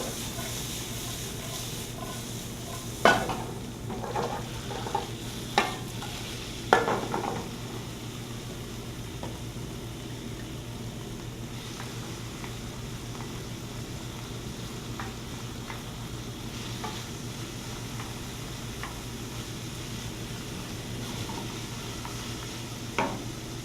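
Vegetables sizzle steadily in a hot pan, a constant close frying hiss with a few clacks of a utensil stirring them early on.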